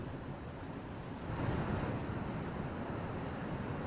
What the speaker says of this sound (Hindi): देखिए, आप देख सकते हैं जो समुंदर है